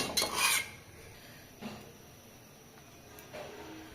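A metal lid clanks onto a cooking pot in a village kitchen, with a brief scrape and clatter at the start and a couple of softer knocks after.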